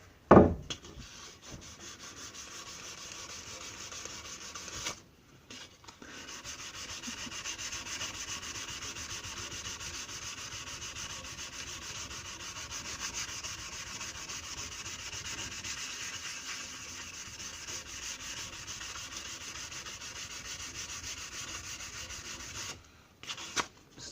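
Hand sanding a softwoods axe with 320 grit paper, a steady close scratchy rubbing that runs continuously for about twenty seconds with a couple of brief pauses.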